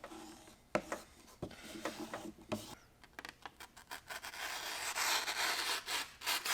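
A cheap dollar store knife is sharpened with irregular scraping strokes, sparse at first and then growing into a denser, continuous rasp, close up and with no talk.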